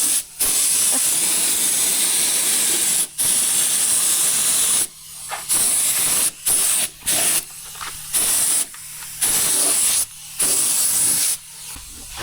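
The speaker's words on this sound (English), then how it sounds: "Now we are finally painting. You see, we even paint the brake lines" Spray paint applied to the brake lines of a Land Rover Series during a restoration: long, loud, close hissing bursts, each cut by short pauses, with no talk.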